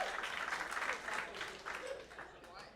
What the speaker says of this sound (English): Clap it up if you're dating.